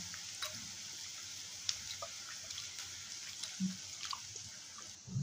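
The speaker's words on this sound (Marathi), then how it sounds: "आपण हे बोंबील 2-3 पाण्याने स्वच्छ करून घेऊया" Quiet splashing and dripping water with small sloshes and clinks, as Bombay duck fish are rinsed by hand in a bowl.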